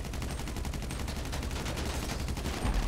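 Rapid, dense gunfire rattles nonstop in an online match of Grand Theft Auto V on PC as a headshot lands, loud and close, with bursts overlapping into a continuous barrage.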